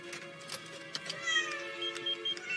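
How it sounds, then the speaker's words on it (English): A cat meows in several short, faint cries, one slightly drawn out, over quiet background hiss. "Not the kitty."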